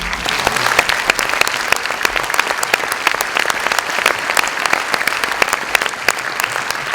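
Loud, sustained applause from an audience after a film screening, many hands clapping densely and evenly throughout with a few sharper claps standing out, and no voices.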